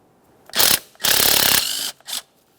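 A ratchet wrench clicks in bursts while loosening 10mm mounting nuts on the throttle body bracket of a 1999-2006 Chevrolet Silverado 1500 4.3L V6: three close, loud spells of rapid ratcheting separated by brief pauses.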